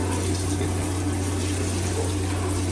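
Hot water pours steadily from a faucet in a 2023 Hideout travel trailer while the water pump hums beneath, a constant close-up rush with a low tonal drone throughout.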